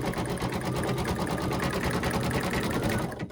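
Steady, fast mechanical chatter from an embroidery machine stitching a bunny treat holder, close and continuous before it stops abruptly at the end.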